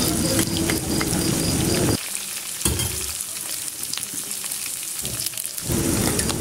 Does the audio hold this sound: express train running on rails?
no